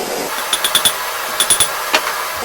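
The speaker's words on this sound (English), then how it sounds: "I'm just going to straighten that out with the hammer." Hammer striking the heated tip of an old nail being straightened for a forged decorative hook, two quick groups of three ringing metallic blows and a single final strike, close and sharp over a low background hiss.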